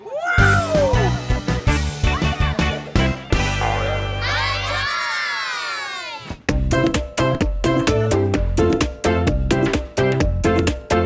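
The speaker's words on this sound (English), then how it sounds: "Oh, a cat." A cat meows several times in a children's show, with cartoon-like cries mixed among bright music and other playful sounds, loud and close.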